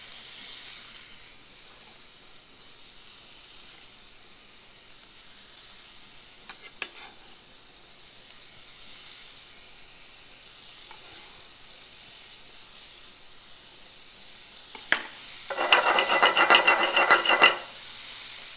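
Sugar and chopped fruit hit a hot frying pan for a sauce to go with cinnamon waffles, giving a faint hiss with a few soft clicks before a loud, dense sizzle flares up near the end for a couple of seconds.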